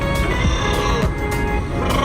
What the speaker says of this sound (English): Oh, that's a fucking gnarly exhaust leak right there.